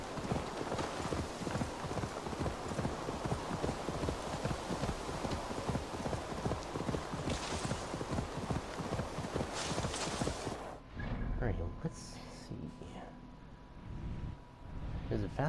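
Horse hooves clip-clop in Assassin's Creed Valhalla, a rapid, steady galloping rhythm close and loud over game ambience, with someone talking over it before the hoofbeats stop.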